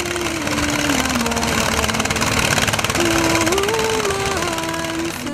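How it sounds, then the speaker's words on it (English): A small locally made gold-dredging boat engine on a river in Ghana chugs steadily and loudly nearby, a continuous mechanical drone with a faint wavering tone riding over it. "a nameless locally made dredging boat"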